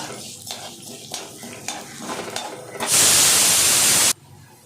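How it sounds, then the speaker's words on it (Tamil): A spoonful of mustard seeds tempering in a spoon of oil: faint scraping and tapping at first, then a loud, sustained hiss that bursts up for about a second before cutting off abruptly. "ஒரு ஸ்பூன் எண்ணெயை விட்டு ஒரு ஸ்பூன் கடுகு போட்டிருக்கேன் இதை வறுத்து"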